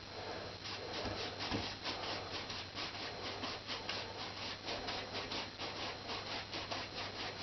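A paintbrush scrubs paint across a seascape painting in crisscross blending strokes, making a steady, rhythmic dry rubbing that is close and fairly quiet and continues throughout.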